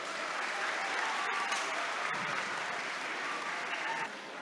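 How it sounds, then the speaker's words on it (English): An audience at a Puccini centennial celebration gives guests a steady, moderately distant round of applause, dense even clapping lasting about four seconds before easing off slightly at the end. "Let us give them a round of applause."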